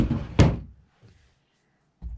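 A wooden dresser drawer, previously sticky and treated with wax or soap, is shoved back into its frame with a sharp wooden thunk and brief sliding rumble, followed by a fainter knock.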